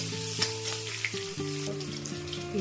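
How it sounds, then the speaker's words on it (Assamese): Onions frying in hot oil with bay leaf in a home kitchen pan, a steady close sizzle with occasional stirring, no talk. "তাৰপিছত পিঁয়াজটো অকণমান ভাজি লওঁ।"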